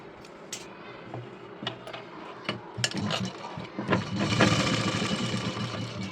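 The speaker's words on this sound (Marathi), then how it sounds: "इथं असं बारीक शिलाई मारून घ्यायची दाबटीप" Sewing machine stitching fine pressed-tip seams on a blouse back-neck design, a close mechanical whirr that starts with scattered taps and builds into a steady run toward the end.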